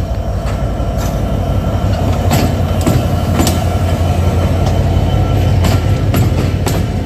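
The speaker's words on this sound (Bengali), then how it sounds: "একটি ট্রেন রূপসা সীমান্ত এক্সপ্রেস, এটি কিন্তু পাকশি স্টেশন ক্রস করছে" The Rupsha Simanta Express crosses Pakshi station with a loud, continuous close rumble, repeated sharp wheel-on-rail clicks and faint squeals running through the whole pass.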